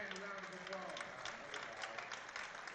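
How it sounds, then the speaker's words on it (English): Crowd at a high school football game between Willis and Oak Ridge applauds a sophomore quarterback walking off the field, a steady wash of distant clapping and cheering from the stands. "a big round of applause for the sophomore quarterback as he walks off under his own power"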